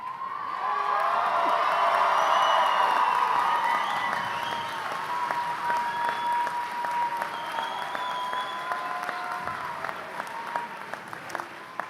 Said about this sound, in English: Let's give them a round of applause, ladies and gentlemen.